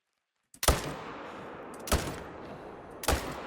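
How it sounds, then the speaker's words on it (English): Three loud, sharp rifle shots spaced about a second apart, each cracking out and trailing into an echoing rumble, fired at yaks in a hunting video game on the Sundarpatan map. "I always like to put 2 shots into the second one just because I'm not super confident with where I placed the first shot."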